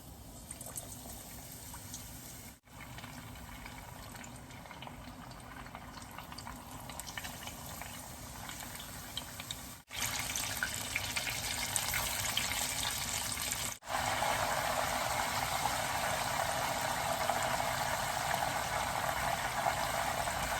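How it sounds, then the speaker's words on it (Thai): Banana fritters frying in boiling oil, a continuous bubbling hiss that holds steady for about twenty seconds and grows louder and denser after a few short breaks. "ตอนนี้น้ำมันก็เดือดนะร้อนเต็มที่แล้วพระราก็ชุบ แป้งทอดกล้วยก่อนนะคะ"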